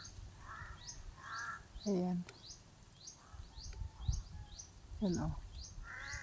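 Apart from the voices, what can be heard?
crows cawing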